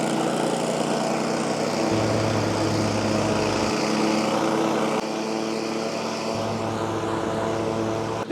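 A Yakta YXR 7 zero-turn mower with new blades cuts grass at full throttle, a loud, steady engine and blade drone that runs alone throughout.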